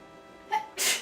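A single sharp sneeze, a short inhaled catch followed by a loud explosive burst, close and otherwise quiet.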